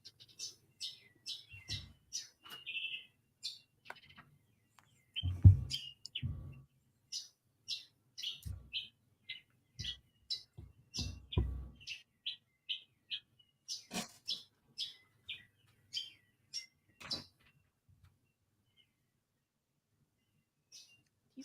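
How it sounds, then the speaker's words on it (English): Birds chirping outside at sunrise, many short bright tweets repeating in irregular bursts at moderate distance, with occasional low thumps and soft background noise in between. "The sun's coming up and all the birds are chirping."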